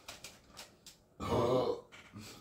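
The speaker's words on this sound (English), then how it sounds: "Tactical carbonation burp." A single loud, rumbling burp after drinking a carbonated drink, lasting about half a second, close to the microphone, framed by faint clicks and rustling before and after.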